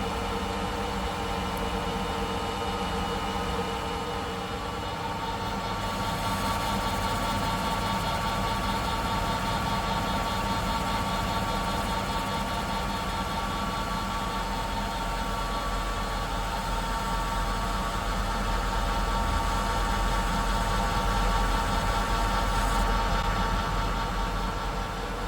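A metal lathe spins at raised speed, cutting with fluid, giving a steady continuous motor hum and whirring tone that holds constant and fairly loud throughout with no voices.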